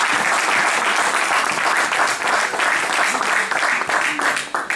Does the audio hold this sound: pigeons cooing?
no